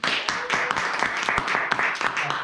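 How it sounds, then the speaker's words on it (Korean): A business-presentation audience at a network marketing company's group center in Busan claps, a dense, steady patter of many hands close by with sharp individual claps standing out, and a voice faintly mixed in. "박수 한번 주십시오."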